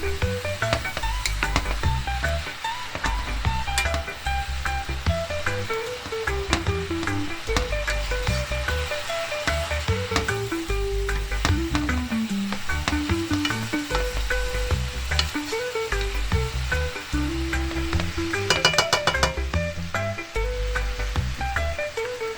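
Cabbage and saltfish with a little butter sizzling in a pan while being stirred, a steady frying hiss with repeated scraping strokes of the spoon throughout, close and clear.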